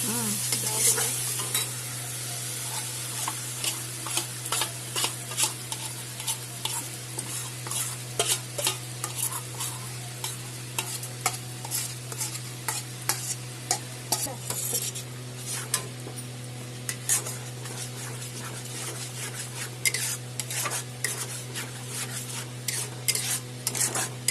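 Fish curry masala with cashews, fried onion and raisins is stirred and sautéed in a pan, the spoon scraping steadily over a continuous sizzle, with a constant low hum beneath and no talking.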